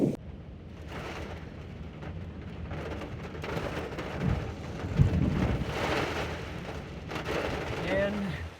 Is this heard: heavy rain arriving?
yes